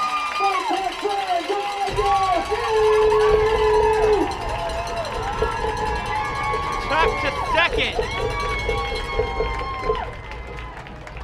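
Baseball stadium crowd cheering loudly after a run scores in a game between the Toronto Maple Leafs and Barrie Baycats, a sustained roar with whistles and shouts under a commentator talking over it.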